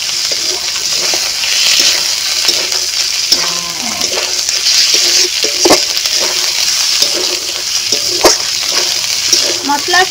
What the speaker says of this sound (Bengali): মশলার সঙ্গে ডিম ভালো করে কষিয়ে নেব।